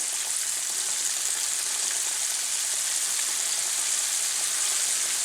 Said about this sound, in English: we're going to add our second batch of shrimp, which is actually our last batch, and let these cook